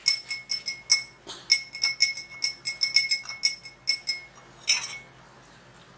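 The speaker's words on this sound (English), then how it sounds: "then you stir it all up" A spoon stirs a homemade mouthwash mixture containing alcohol in a glass, giving a steady run of bright, ringing clinks against the glass, close and fairly loud, with no talking.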